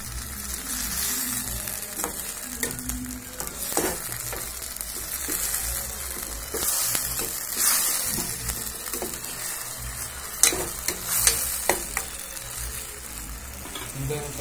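Onion and tomato sautéing into a biryani gravy in a catering kitchen, giving a continuous, loud frying sizzle with scraping stirs and scattered sharp crackles throughout.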